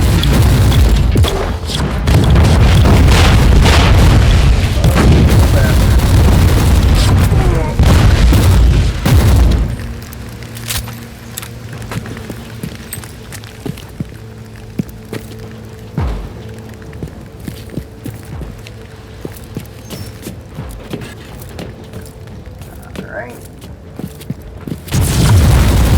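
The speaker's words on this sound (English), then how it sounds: "I'm liking the bolt gun. It's working nicely." Rapid heavy bolt gun fire in Warhammer 40000 Inquisitor Martyr, a dense booming barrage for the first ten seconds, then scattered sharp thumps and pops with mechanical hum and steady tones in the background.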